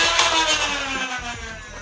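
A Nerf Stryfe flywheel blaster, modded with an extra battery pack and dressed as an MP5 replica, whirs in quick bursts with rapid pulsing flywheel revs and firing thumps, close and moderately loud.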